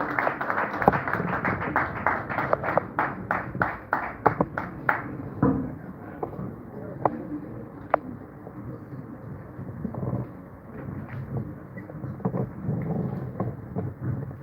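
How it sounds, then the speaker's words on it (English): An audience at a business luncheon applauds as the guest of honor is welcomed to the podium, dense clapping from a crowd in a large room that carries on for several seconds before thinning into scattered claps. "Please, a round of applause, please, and welcome to the podium,"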